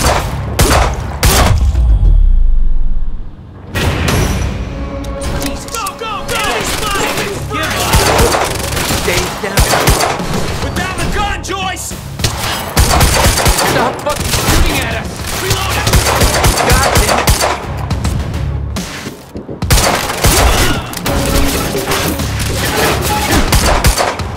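Heavy gunfire in a Quantum Break firefight rattles in loud, dense bursts, with rapid automatic volleys and occasional thuds continuing almost without pause, broken by a brief lull near the start.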